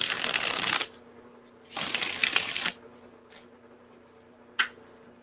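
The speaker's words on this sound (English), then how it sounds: "Let me give one good shuffle at least." Tarot cards being shuffled by hand in two long riffling bursts, near and fairly loud, followed by a couple of brief card taps, with no talking.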